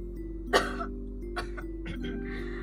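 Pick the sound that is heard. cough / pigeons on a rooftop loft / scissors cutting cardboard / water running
cough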